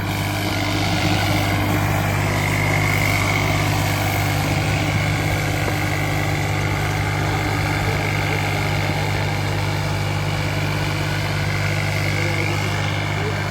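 A tractor engine from Fatehabad, Haryana runs at a steady idle through a turbo check in a workshop. The low drone is loud and even and holds for the whole stretch, with a faint hum above it.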